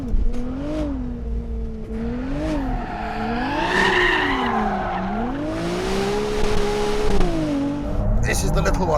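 A Ferrari 296 GTS engine drones and revs while the car slides sideways, with long wavering tyre squeals rising and falling over several seconds, up close and under someone talking.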